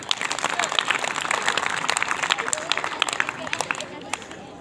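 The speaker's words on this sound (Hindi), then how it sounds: "तो इन सबके लिए जोरदार तालियां।" Applause from an audience at a school event honouring B.Ed trainees and helpers, a dense crackle of many hands clapping throughout, with crowd murmur mixed in.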